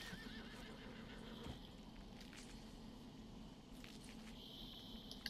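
Horse whinnying within the open-world Western game Red Dead Redemption 2, a clear neigh over a steady outdoor ambience with soft hoof clip-clops, moderately near, no talk.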